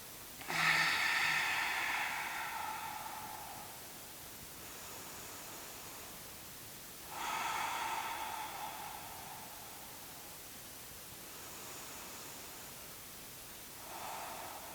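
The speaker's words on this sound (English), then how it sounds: "Big inhale to the belly. Big exhale out. 3 more breaths." Deep belly breathing during a yoga deep-stretch practice: slow, breathy inhales and exhales rise and fade in long cycles, close and fairly soft, with no talking over them.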